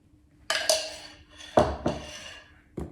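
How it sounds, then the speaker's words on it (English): Gingerbread cookie dough being mixed with flour in a bowl, heard as a few sharp clinks and scrapes of a utensil against the bowl, loud and close, spaced irregularly with quiet pauses between. "I had 4 cups of flour, and now I'm mixing it"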